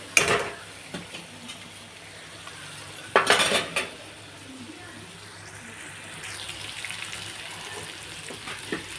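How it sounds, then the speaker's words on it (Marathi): Potatoes sizzle steadily in hot oil while metal utensils clatter and scrape against the pan in a few sharp bursts. "बटाटे चांगले तळून घेऊ."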